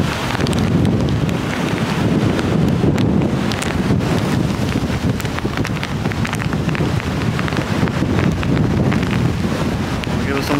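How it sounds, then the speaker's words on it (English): Strong hurricane wind gusts roar continuously across the microphone, a dense, rushing buffet with rattling and rain-like hiss throughout, loud and close. "Wind gusts."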